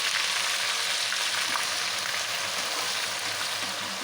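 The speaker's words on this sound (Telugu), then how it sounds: "ఇదే ఆయిల్లో అల్లం వెల్లుల్లి పేస్ట్ వేసుకోవాలి ఫ్రై చేయాలి" Ginger garlic paste fries in hot oil for a homemade chicken pickle, giving a loud, steady, unbroken sizzle close up with nothing else heard.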